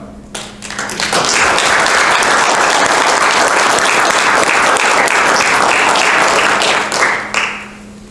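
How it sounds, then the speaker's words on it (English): A room of people at a township board meeting applauds the fire department, steady dense clapping that swells quickly and holds loud for about six seconds before tapering off. "we need to give a round of applause to the fire department"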